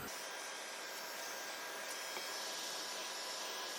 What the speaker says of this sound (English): I'm going to grab my Ranger heat tool and apply a little bit of heat to accelerate the